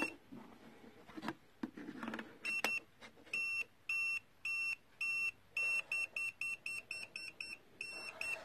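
A KKM5 socket tester beeps on detecting a live wire, giving a run of short, sharp electronic tones that speed up toward the end, preceded by faint handling clicks.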